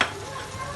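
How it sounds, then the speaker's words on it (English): Lamb bolognese sauce being stirred in a pan over a high flame, a steady sizzling fry with soft scraping, close and brief, and no voices. "We are mixing it on high flame"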